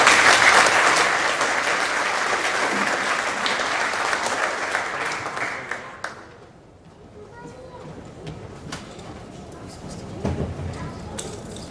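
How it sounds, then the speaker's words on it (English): A school hall audience at an underclass honors ceremony applauds award recipients, with loud, dense clapping for several seconds that thins out and fades into quieter room noise, scattered claps and a few knocks. "Give them a round of applause."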